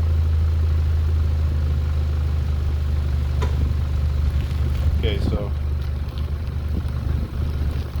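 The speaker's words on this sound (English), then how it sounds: "this is washers between the muffler and the pipe. So there's an exhaust leak on purpose to give you like that sound." A Mazda Miata NC with its stock exhaust and washers fitted between muffler and pipe to create a deliberate leak idles with a steady low rumble, close and continuous, with a brief spoken phrase over it.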